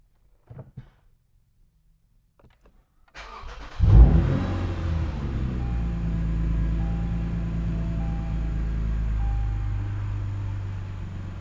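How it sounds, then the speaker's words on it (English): A 2017 Lexus IS 350 F Sport, fitted with a tune and tuned intake, cranks over after near silence and a few faint clicks, catches with a loud surge, then settles into a steady, even idle. "start the car up."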